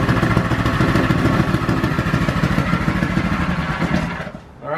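A 212cc Predator small engine fitted to a bike runs with a steady, loud, close chugging putter and mechanical clatter, then briefly dips near the end.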